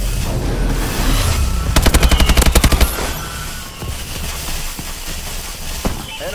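A Vulcan cannon fires from overhead in Call of Duty Advanced Warfare, a loud rapid-fire burst of evenly spaced thumping rounds lasting about a second amid continuous battle noise and voices.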